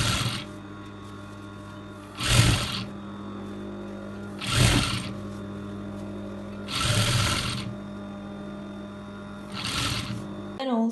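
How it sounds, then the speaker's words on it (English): A sewing machine stitching through laptop bag fabric in several steady whirring bursts with short pauses between, close and clear, with a faint background hum. "I'm going to sew right through here and right through here."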